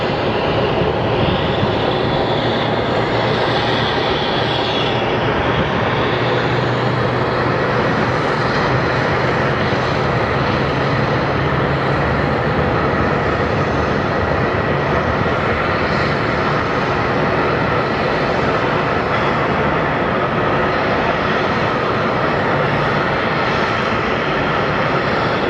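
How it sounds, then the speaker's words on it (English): A Southwest airliner from Chicago on final approach to Phoenix Sky Harbor roars continuously and loudly, its jet engine noise steady and broadband throughout with no talk. "On final, we have Southwest 749 out of Chicago,"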